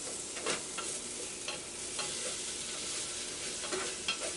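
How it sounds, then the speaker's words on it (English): Garlic and vegetables, including cremini mushrooms, fry in a pan with a bright continuous sizzle, broken by several soft scraping stirs close by. "Okay, I'm going to stir it up again."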